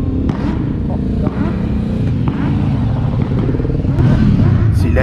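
A motorcycle engine revving up close in a space that echoes, a loud rough drone that rises and swells with some clattering, while someone talks over it.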